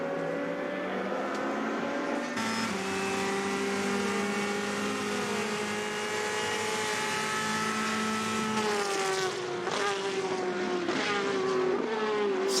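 Race cars lap Le Mans during the 24 Hours race, a continuous loud engine roar whose pitch climbs steadily through the gears, then drops and rises again as the car brakes and accelerates, with another car's sound blending in near the end.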